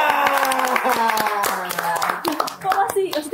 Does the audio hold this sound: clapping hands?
yes